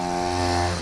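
A stunt mini motorcycle engine revs in a loud, sustained buzzing drone, close by and held at steady high RPM for under a second.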